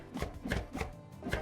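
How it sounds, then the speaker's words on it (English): Fish being chopped in a video game, a game sound effect of four soft, regular thuds with a wet knife-on-board quality, close and fairly loud, with no voices. "the fish chopping ASMR might not necessarily be to everyone's liking"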